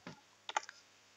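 A few quick key clicks on a computer keyboard while entering a CSS rule, one soft tap followed by a short cluster of sharper clicks, close and fairly quiet with no talking.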